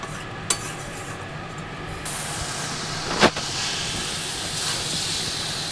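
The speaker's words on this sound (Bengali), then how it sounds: "এইবার আমি ভালো করে সবজিগুলোকে আমি একসাথে মশলার সাথে মিশিয়ে নেড়ে চেড়ে নিচ্ছি" A spoon stirs part-boiled mixed vegetables with spices in a hot pan, a steady frying hiss with a couple of brief scraping knocks, close and fairly loud.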